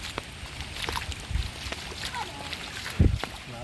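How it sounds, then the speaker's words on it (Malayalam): A small flowing stream gurgles softly, broken by a few sharp splashes close by, while voices murmur in the background. "അവിടെ ഒരു തോട് ഒഴുകുന്നുണ്ട്"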